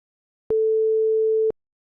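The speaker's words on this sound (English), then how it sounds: "A sine wave of 440 Hz sounds like this." A pure 440 Hz sine wave tone sounds alone for about one second, steady and clean with abrupt start and stop, surrounded by silence.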